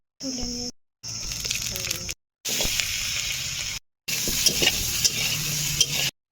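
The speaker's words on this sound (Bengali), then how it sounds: "গুঁড়ো সুন্দর ভাজা হয়ে গেছে" Spice powder frying in oil in a pan, giving a close, bright sizzle with stirring scrapes, heard in several short segments separated by silent cuts, while a voice talks over parts of it.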